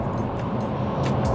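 A diesel Vauxhall Insignia Grand Sport cruising at about 60 mph, heard from inside as a steady low engine drone and road rumble with no voices.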